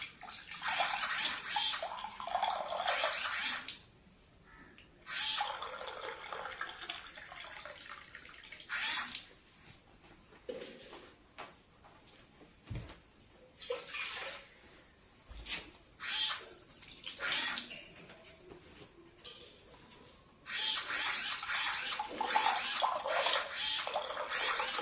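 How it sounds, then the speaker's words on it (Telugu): Water pours in bursts from a DIY Arduino-controlled dispenser tap into a glass, a faint, splashy stream that starts and stops several times with quiet gaps between pours. "మనం గ్లాస్ని ట్యాప్ కింద పెడితే మనకి వాటర్ అనేవి వస్తాయి."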